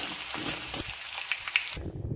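Mustard seeds, green chillies and garlic hitting hot oil that was used for frying, a bright crackling sizzle with sharp pops, close up, cutting off abruptly near the end.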